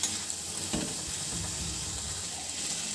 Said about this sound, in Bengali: টমেটো দিয়ে আবারও 1 মিনিটের মতো কষিয়ে নেব, যেন টমেটোর কাঁচা গন্ধটা না থাকে